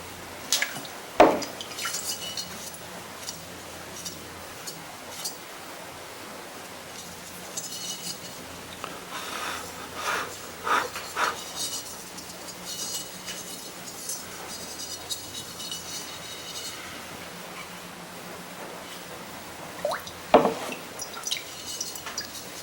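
Ceramic glaze poured in an arcing stream over a clay piece, giving soft trickling and dripping with occasional louder clinks of a container, close and quiet throughout.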